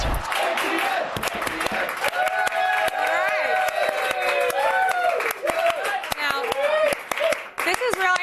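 Clapping and crowd noise in a TV studio, sharp hand claps scattered through the clip under continuous lively talk from people on set.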